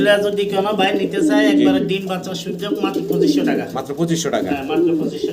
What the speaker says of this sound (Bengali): একজোড়া ইয়েলো কালারের শৌকিং কবুতর